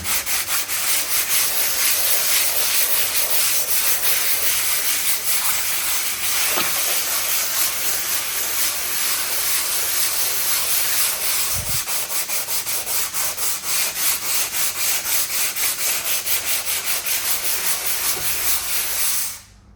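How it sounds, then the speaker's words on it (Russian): Power sanding of a surface in an apartment before painting, a loud, continuous abrasive whirring hiss that runs almost unbroken for the whole stretch, then stops abruptly at the end. "Так вот и шлифую."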